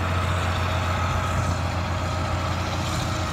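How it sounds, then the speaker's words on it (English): A concrete pumper truck idles on a house construction site, a loud steady diesel rumble with a constant low hum and even texture, no voices. "They've mostly got our pumper truck cleaned out."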